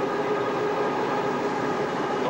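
Locomotive-hauled train with a 120 brake application, a steady loud rumble and hissing under a faint tonal whine, continuous and close, no talking.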